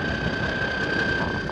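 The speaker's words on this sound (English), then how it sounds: "we got to take the John Deere Skidster back to the neighbors" A John Deere skid loader engine runs steadily at close range, a continuous droning rumble with a faint whine and no talk.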